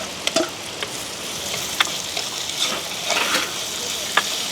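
Green chillies and curry leaves frying in hot oil for a village-style crab curry, a steady crackling sizzle with sharp pops and a few spatula stirs, close and fairly loud.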